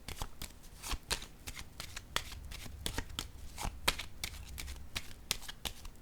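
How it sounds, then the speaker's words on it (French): Tarot cards being handled on a table, a dense run of quick, crisp papery flicks and snaps close by, with a faint soft background hiss and no talking. "Je vais déposer maintenant une carte ici."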